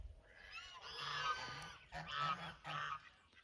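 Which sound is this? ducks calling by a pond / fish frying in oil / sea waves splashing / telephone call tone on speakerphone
ducks calling by a pond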